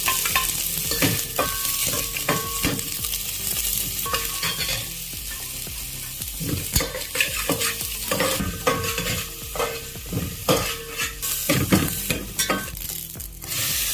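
Chopped onions hit hot oil in a pot and sizzle loudly and continuously up close, while repeated scraping stir strokes cut through the frying. No one speaks.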